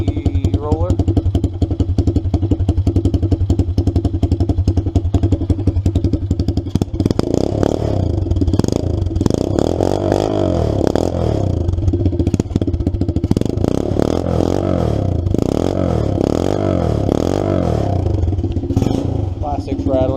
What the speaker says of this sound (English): Plastics rattling.